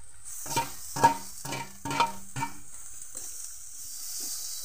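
Tomatoes hitting a hot pan of frying bitter gourd curry with salt, turmeric and chilli: a hissing sizzle broken by about five scraping stirs near the start, then a steady soft fry that fades, with no voice.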